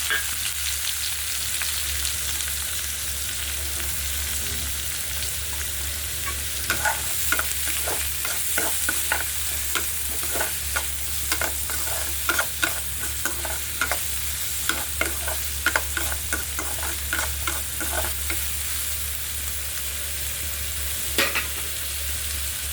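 Chopped onions and green chillies fry in a pan for a curry, a constant hiss of oil broken by a long run of quick scraping stir strokes in the middle, then a lone scrape near the end.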